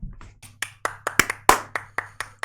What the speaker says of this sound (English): Can I get some applause, please?